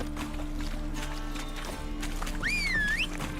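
A horse gallops in The Witcher 3 video game with a steady, rhythmic drum of hooves under a low ambient hum, ending in a rising, wavering whinny.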